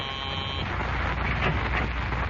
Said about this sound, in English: a call buzzer summons a nurse into a private room at the city hospital